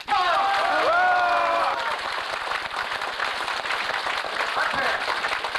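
Crowd applause at a party founding convention in Songpa, a dense, sustained wash of clapping that follows a speaker's voice and continues steadily to the end.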